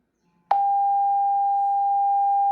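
A Redmi Note 15 Pro phone speaker plays a loud, steady single-pitch cleaning tone meant to push out water and dust. It starts abruptly after a brief silence and holds unbroken to the end.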